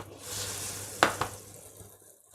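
Mushrooms laid face down in hot butter in a pan on an induction hob, a soft quiet sizzle with two sharp clicks as they touch the pan, then a fading hiss.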